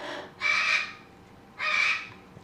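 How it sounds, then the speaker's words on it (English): Two loud, harsh crow-like caws from birds close by, each lasting about half a second and separated by a short pause, with no talking. "Oh my god, the friggin' birds."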